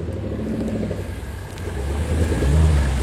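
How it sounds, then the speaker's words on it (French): Cars roll into a supercar meet, engines rumbling nearby as one vehicle builds revs, the low growl growing louder toward the end over a background of outdoor noise. "On a beaucoup de voitures qui arrivent."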